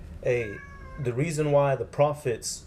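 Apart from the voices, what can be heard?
cat meowing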